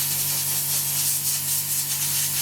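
An airbrush sprays white paint onto model kit parts for an F-16I Sufa build, a continuous close airy hiss with a steady low hum beneath it and no talking.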